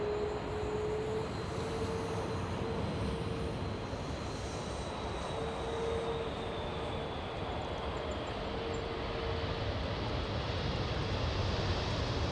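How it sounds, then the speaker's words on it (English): An Aer Lingus airliner at Los Angeles airport produces a constant loud engine roar with a thin whining tone, sustained and steady from a moderate distance without speech. "We have the Irish Aer Lingus."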